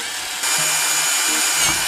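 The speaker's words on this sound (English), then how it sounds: "I've got this cute little drill bit that I found in my toolbox, and I'm going to use it to make a pilot hole" A small power drill with a tiny bit bores a pilot hole for a dollar-store fan-switch light fixture. The motor whirs loudly and steadily up close, with brief changes as the bit bites. There is no talking.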